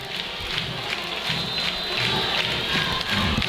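Football crowd at a high school homecoming night game, a dense roar of many voices cheering and shouting in waves, sustained and fairly distant across the stands.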